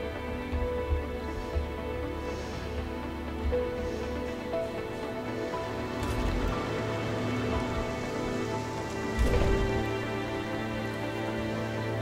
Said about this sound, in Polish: Czyste opady deszczu.